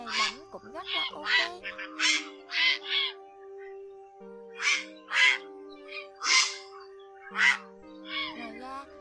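Grey herons call in a series of about a dozen harsh, croaking squawks, evenly spaced and loud, set against a steady low tonal background.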